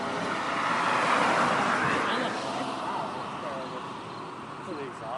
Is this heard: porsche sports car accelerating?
yes